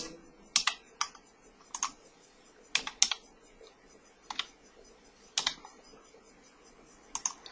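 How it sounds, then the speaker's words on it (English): Scattered, uneven keystrokes on a computer keyboard, entering customer details in short bursts with pauses between them, close and fairly quiet, with no voices. "let's type in some customer details"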